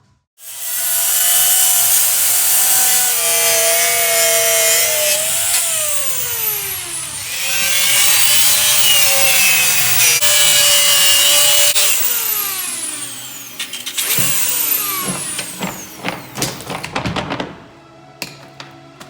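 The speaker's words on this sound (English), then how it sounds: "I'll get it trimmed out, sanded, prepped, and ready for the front of the cowling" A carbon fiber aircraft cowling being trimmed and sanded with a high-pitched power tool, loud whining cutting in long stretches with pitch swoops, then broken into short bursts and clicks before stopping.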